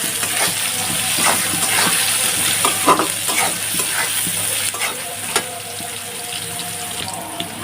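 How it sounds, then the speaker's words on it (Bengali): Potatoes fry in a pan with crushed garlic and chopped onion added, giving a steady close sizzle with scattered stirring scrapes and clinks throughout, no voices. "এখন আমি এখানে দিয়ে দেবো রসুন থেতে করে রাখা আর হচ্ছে পেঁয়াজ কুচি।"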